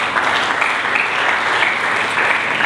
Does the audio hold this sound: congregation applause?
yes